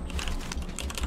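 Computer keyboard keys clatter in quick, uneven bursts of clicks, close and fairly quiet, with no voices over them.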